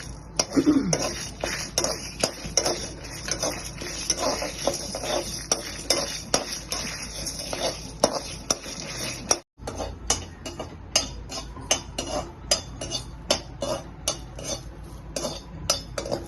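Lentils and spices frying for a puliyodharai podi, stirred with dense rapid metal ticks and clinks of a spoon against the pan, close and continuous, with no voices.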